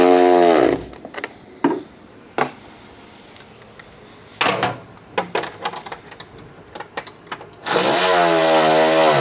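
A power tool, likely an impact driver, tightens fender bolts on a 2026 Harley-Davidson Road Glide during swoop fender and roll pan installation, loud, close whirring bursts at start and end with clicks and clatter between them.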